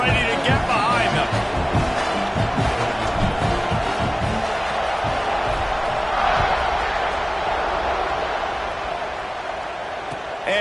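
Dense stadium crowd roaring steadily at kickoff in a college football video game, Georgia versus Michigan State, a loud continuous wash of cheering that fades slightly toward the end.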